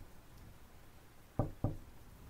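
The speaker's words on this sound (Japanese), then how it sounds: "誰かが殻を叩いているようなので" Two sharp, hollow knocks in quick succession on a hermit crab's shell in the video game Happy School, close and distinct over a quiet background.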